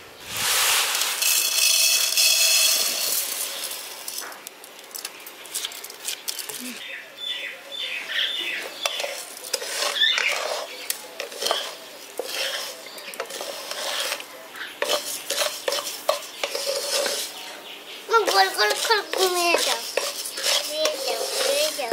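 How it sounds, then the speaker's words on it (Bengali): A cup of sugar tipped into a hot kadai for mishti doi, with a hissing pour at first, then metal spoon scrapes and clinks against the pan, close by and uneven. "এবার চিনিটা দিয়ে দিচ্ছি।"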